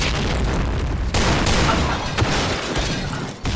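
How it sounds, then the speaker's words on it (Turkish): A thrown bomb explodes in a video game, a loud booming blast followed by rumbling, gunfire-like bursts that fill the whole clip, with no speech. "Bomba atıyorum."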